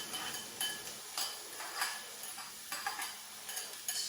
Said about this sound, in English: I'm going to add my onion